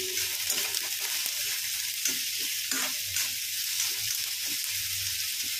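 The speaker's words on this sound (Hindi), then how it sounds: "प्याज का कलर हल्का सा ब्राउन होने तक इसे हम भून लेंगे" Onions frying in a pan with a little salt for a jackfruit curry, a constant loud hissing sizzle with soft stirring scrapes throughout, close and uninterrupted.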